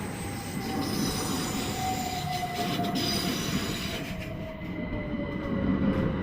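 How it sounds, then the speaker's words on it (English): A Southern Class 377 electric train pulls fast into East Croydon station, its wheels squealing in a long, slowly falling high whine over a loud rumbling roar that stays close throughout. "incoming in is the Southern Angel 377434, coming in quite fast"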